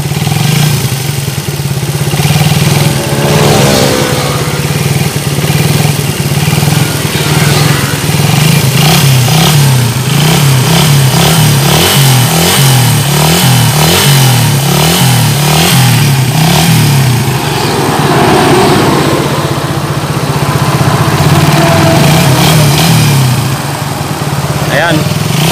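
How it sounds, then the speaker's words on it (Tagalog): A Suzuki Raider 150 Gen 2 motorcycle engine, due for overhaul and hesitating when the throttle is opened, runs loud and close with repeated throttle blips and rises in revs over a steady idle, while someone talks over it. "Pag pinipiga ko yung kanyang throttle, medyo nadi-delay, parang nalulunod."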